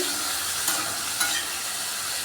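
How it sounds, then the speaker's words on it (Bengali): Tomatoes sizzle loudly in hot oil for a spicy tomato chutney, a dense continuous hiss with two light stirring scrapes. "টমেটো দিয়ে আমি তেলে নাড়াচাড়া করছি"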